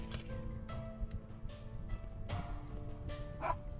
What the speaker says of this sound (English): I am very sorry for the dog barking in the background.